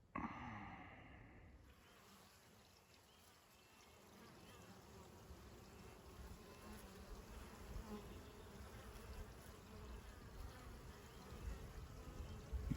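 Honeybees buzzing in a steady dense hum around two hives at a wooden shed, the drone rising slightly over time.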